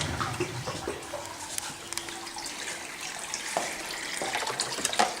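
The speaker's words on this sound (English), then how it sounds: "Got a little thing here that shoots bubbles into the tank for extra air." Water running and bubbling in a turtle tank as an aquarium filter and air bubbler keep the water moving, a steady close wash with small splashy bursts and no voices.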